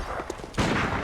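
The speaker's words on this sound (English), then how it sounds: "Mr. Gatling gun is firing at you." Gatling gun firing in Bloodborne, a short loud burst of gunfire that breaks in about halfway through and carries on dense and close, with faint voice murmur beforehand.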